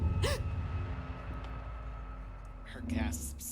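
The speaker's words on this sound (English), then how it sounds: "Her gasp scared me." A character in the video game Tell Me Why gives a sharp, close gasp near the start, followed by a quiet ambient stretch and a few more breathy vocal sounds toward the end.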